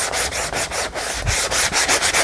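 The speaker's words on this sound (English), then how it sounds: "I love these sanding blocks. They're awesome." A handheld sanding block rubs back and forth across a book cover in a steady run of rhythmic strokes, close and fairly loud, with a brief low thump midway and no voices.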